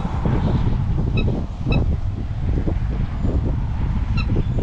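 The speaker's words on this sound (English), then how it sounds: "I think they're actually chickens. Just weird looking chickens." Loud, honking fowl calls ring out a few times over steady, noisy outdoor background, close by.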